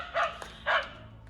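A dog named Benny gives two short, sharp barks about half a second apart, close by and moderately loud, against quiet indoor background noise.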